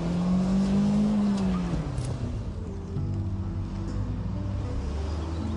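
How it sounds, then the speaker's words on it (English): A front-wheel-drive car revving as it builds speed, then a brief tire squeal as it swings into a handbrake turn, with the engine note dropping and settling into a steady rumble, heard close. "You must build up your speed before flicking the steering wheel and then pulling on the handbrake"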